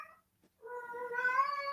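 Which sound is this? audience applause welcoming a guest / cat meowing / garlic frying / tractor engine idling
cat meowing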